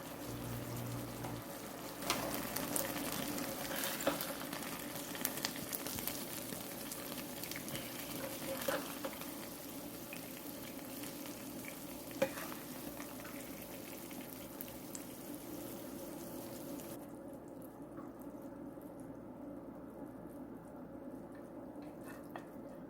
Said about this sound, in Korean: 소스가 졸여질 때까지 자글자글 끓여주세요